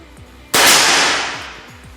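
A single air rifle shot cracks out sharply and close, its loud report fading over about a second in an otherwise quiet setting.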